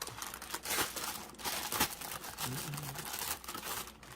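Black plastic film is peeled off a home mushroom grow kit, giving soft, irregular crinkling and tearing rustles close by at a low level, with faint voices in the background.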